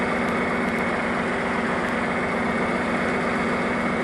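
John Deere 4020 tractor engine pulling a chisel plow deep through a field, a steady loud diesel drone with an even low throb that holds unchanged throughout, with no talk.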